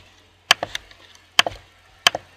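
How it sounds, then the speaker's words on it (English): A very loud computer mouse clicks sharply up close in three quick double clicks, each a crisp press and release, spaced about a second apart against near silence. "I apologise for my extremely loud mouse."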